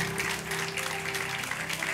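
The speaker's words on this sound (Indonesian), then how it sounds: "Ya tepuk tangan untuk Tuhan dulu." Steady applause from a church congregation at a worship night fills the space, a dense wash of clapping with faint sustained tones humming beneath it.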